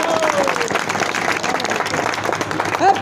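A crowd at a village election campaign gathering for a district panchayat candidate applauds loudly and continuously, dense close clapping with a brief voice cutting through near the end.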